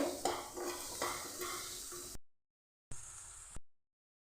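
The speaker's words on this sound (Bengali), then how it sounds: "বেগুন ভেজে নিচ্ছি" Brinjal slices fry in oil with turmeric and salt, a close, steady sizzle broken by spatula scrapes against the pan, cutting out briefly before resuming.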